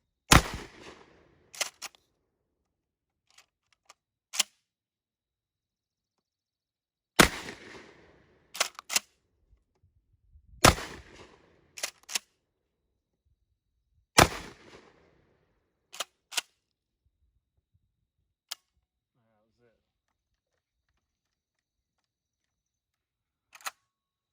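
Several loud, sharp blasts from a KelTec KSG 12 gauge pump shotgun fired at a Tupperware dish outdoors, coming singly and in quick pairs with pauses between and a few fainter clicks and pops toward the end.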